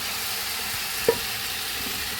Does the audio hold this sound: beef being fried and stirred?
yes